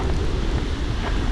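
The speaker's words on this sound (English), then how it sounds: "it's getting windy" Wind blows hard across the microphone on an open stretch of the Camino de Santiago between Belorado and Atapuerca, a loud continuous rumbling buffet with no voices.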